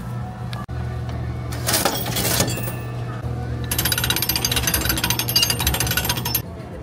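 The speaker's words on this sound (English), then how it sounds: "Let's get to cranking." Hand-cranked gear penny press pressing a penny at Broadway at the Beach in Myrtle Beach, with a loud, steady grinding and clanking rattle over a low mechanical hum that runs through most of the clip.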